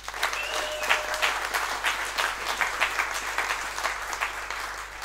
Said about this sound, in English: Give another big cheer.